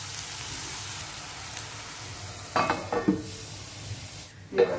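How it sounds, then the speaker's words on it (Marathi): Tomatoes and onion sauté in a pan with a soft, steady sizzle, broken by a few brief bursts of stirring near the middle and again at the end. "टोमॅटो पण छान असं परतून घेऊया थोडा नरम होईपर्यंत"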